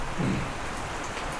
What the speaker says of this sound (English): I don't know if you guys can hear the rain outside, but it is really coming down out there now.